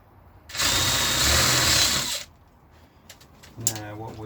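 A power drill whirs in one steady burst for under two seconds close by, drilling a countersink hole while building a replica K6 telephone box, then stops, followed by a brief voice.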